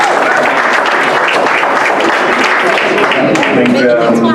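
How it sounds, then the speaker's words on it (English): Steady, loud crowd applause for a speaker at a software testing meetup in Cape Town, dense clapping held at an even level with voices mixed in throughout. "give him a round of applause."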